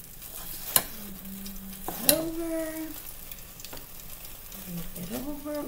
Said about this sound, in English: We are now just going to flip them over.